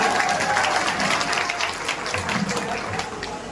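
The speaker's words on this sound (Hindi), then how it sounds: "एक जोरदार ताली से बुलाइए।" Loud, dense applause from a large audience at an outdoor poetry gathering, continuous clapping with crowd murmur and some voices mixed in, steady and close throughout.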